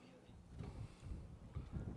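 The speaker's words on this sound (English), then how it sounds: "Wind is gusting here now." Gusty wind buffets the microphone at an outdoor high school varsity baseball game, giving uneven low rumbling surges that swell and fade over a couple of seconds, with no clear voices.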